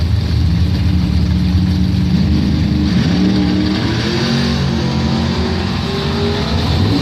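Doorslammer drag race cars, including a 1979 Camaro, roar steadily at a drag strip, a loud sustained engine drone with no break and no voices over it.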